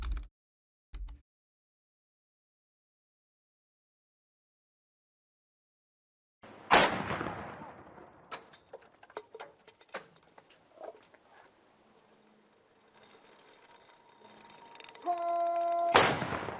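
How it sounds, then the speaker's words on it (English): Gunfire salute rounds fired at a cemetery funeral: a sharp crack after a long silence, then scattered shots and rattles that fade into a quiet tail, ending with a loud swelling burst; faint indistinct sounds come before the first report. "They really are shooting these rounds just like into the cemetery, it seems like."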